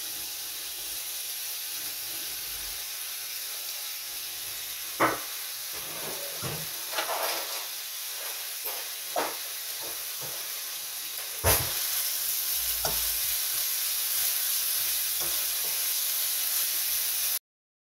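Onions drop into hot olive oil in a pan and fry with a steady, close hiss and sizzle, broken by occasional clinks and stirring scrapes.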